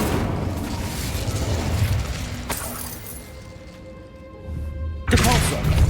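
Incendio fire spell in the video game Hogwarts Legacy, cast inside a tomb: a sharp burst lands midway through the rumbling, crackling game ambience, followed by a brief quieter ringing stretch and then another loud burst near the end.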